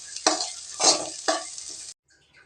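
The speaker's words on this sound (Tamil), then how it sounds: "இப்போது தாளிச்சது எடுத்து கொட்டியாச்சுங்க" Hot fried tempering is tipped into a pan of broad beans and lentil koottu and stirred in, giving three bursts of sizzling and scraping close up with no talk, then near silence.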